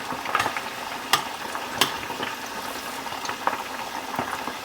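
Catfish nuggets fry in a pot of oil, a soft, even bubbling with scattered sharp pops and crackles, near and steady.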